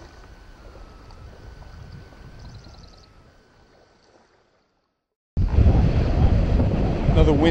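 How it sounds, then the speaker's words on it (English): Steady wind noise rumbles across the microphone on Chesapeake Bay, drops away to near silence, then returns suddenly as a loud, broadband gust. "Another windy day today."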